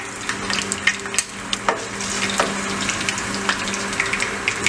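Dried red chillies frying in oil over a medium flame for a fish pickle, a continuous crackling sizzle with scattered sharp pops and stirring clatter, close and fairly loud, no talk.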